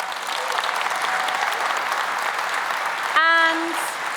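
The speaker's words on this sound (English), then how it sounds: "So a huge round of applause for them." A large keynote audience at the Umbraco Codegarden 2023 conference gives a big round of applause. The clapping is loud, even and sustained, and a single voice cheers briefly near the end.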